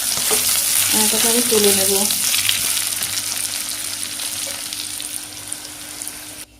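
Potatoes and spices frying in a pan for an egg curry, a loud continuous sizzle that crackles steadily and slowly eases off toward the end, with a few spoken words briefly over it.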